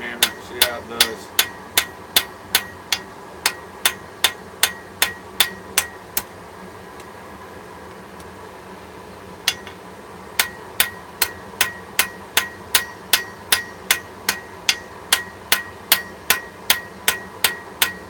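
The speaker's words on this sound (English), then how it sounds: "Use the small hammer." A small hammer strikes metal again and again in an even, quick rhythm of sharp ringing taps, pausing briefly midway before the steady blows resume, close and clear.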